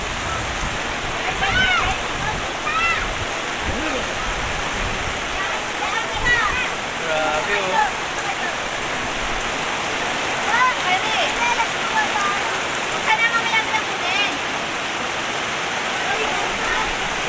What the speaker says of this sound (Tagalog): Malakas ang buhos ng ulan.